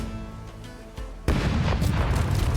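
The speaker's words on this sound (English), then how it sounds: "So we can fire at their rear cannons" Ship cannons fire at an enemy vessel in a turn-based pirate naval combat game: a faint muffled thud, then a loud booming cannon blast that rings on with rumbling debris and crackle.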